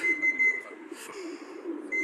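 A person whistles to call racing pigeons home at the end of a winter pigeon race, short repeated shrill whistle notes over faint outdoor background noise.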